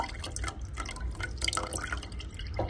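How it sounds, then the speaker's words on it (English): Water being poured back into a small container holding fish fry in a quarantine fish room, a steady close trickle and splashing with dripping that runs without a break throughout. "I'll pour water back in."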